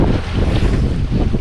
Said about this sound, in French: Et on a toujours 20 nœuds de vent,